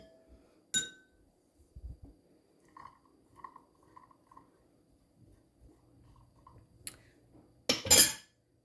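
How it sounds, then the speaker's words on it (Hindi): Boiled white and red lobia are mixed in a bowl with a utensil, giving scattered soft clinks and scrapes of metal on dish separated by quiet pauses, with a louder rattle near the end. "इन चीज़ों को हमने इकट्ठे ही ऐसे मिक्स कर देना है।"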